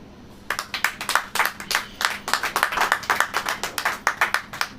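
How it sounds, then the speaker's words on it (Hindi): A church congregation claps along in a steady rhythmic beat, loud and close, roughly two claps per second, continuing through the whole stretch without speech. "ताली बजाइए।"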